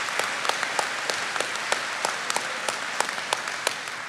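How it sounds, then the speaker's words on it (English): A graduation audience applauds faculty and staff of an apprentice school, a steady bed of clapping with sharper individual claps standing out near by at irregular intervals. "please give your faculty and staff a round of applause for their commitment to training and academic excellence."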